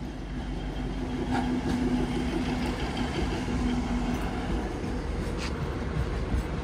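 A DEMU local train arrives at a station on the Lataguri to Siliguri line, its steady rumble and faint rail noise held at an even level, with a few brief sharper clicks.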